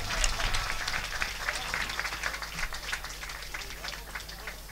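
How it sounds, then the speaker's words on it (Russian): Applause from a crowd at the end of a music battle, fairly faint and distant, with crowd noise and a low rumble running under the clapping. "Можно прекращать и получать аплодисменты."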